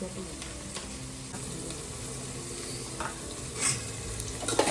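Biryani masala stirred in a frying pan for vegetable masala rice, a continuous soft sizzle under occasional spoon scrapes and taps that grow slightly louder toward the end.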